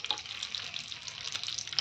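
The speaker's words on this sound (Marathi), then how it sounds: "त्यानंतर आपल्याला घालायचं लसूण पाकळ्या," Garlic cloves fry in hot oil with a steady, close sizzle and scattered light crackles, soft in level and with no voices over it.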